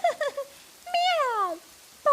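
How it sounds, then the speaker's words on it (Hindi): Cartoon black cat meowing: a few short mews, then one long, drawn-out falling meow and the start of another, close and clear with no other sound. "एक काली बिल्ली वहाँ आ जाती है। म्याऊं!"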